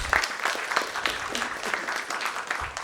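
An audience at a corporate summit event breaks into steady, dense applause that fills the space, moderately loud and continuous, with no speech over it.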